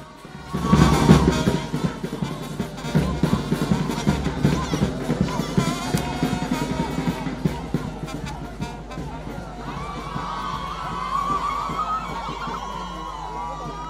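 A crowd at a church convention opening ceremony in Abidjan acclaims and cheers, loud bursts of shouting and whooping at first, then a sustained roar of voices with an amplified announcer speaking over it.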